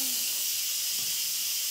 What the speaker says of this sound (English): Okay, so our cook time is complete, so we're gonna let the pressure out